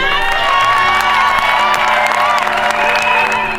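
A large crowd at a civil wedding ceremony cheering loudly with whoops, shouts and applause, a dense continuous roar throughout.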